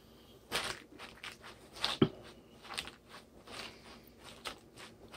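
Faint, repeated crisp crunching of fresh romaine lettuce being broken and handled, soft and close, with one sharper crack in the middle.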